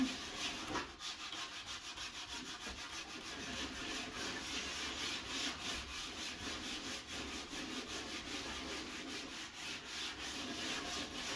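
Wood being sanded by hand during a cabin build, a continuous rhythmic scraping rub that goes on steadily for several seconds at a moderate, fairly quiet level, with no talk.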